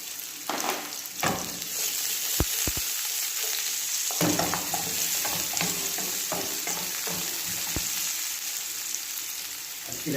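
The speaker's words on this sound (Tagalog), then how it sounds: "Ilagay natin yung ating sibuyas" White onion hits a hot pan and stir-fries for spicy chicken breast with pepper, a bright continuous sizzle with a few sharp clacks of a utensil near the start and stirring scrapes throughout, close and loud.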